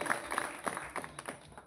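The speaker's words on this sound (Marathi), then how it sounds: "तिला टाळ्या वाजवा त्यांच्यासाठी" A short burst of applause from an audience at a Marathi bhajan performance, a crowd clapping at moderate distance.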